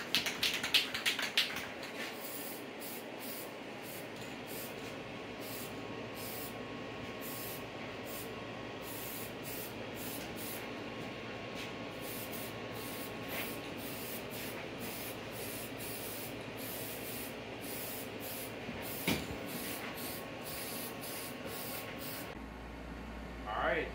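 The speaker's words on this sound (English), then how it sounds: "we're gonna spray the horns down" Clear coat is sprayed onto mounted deer antlers in a taxidermy workshop: a steady, close aerosol hiss runs almost unbroken for over twenty seconds before stopping abruptly near the end.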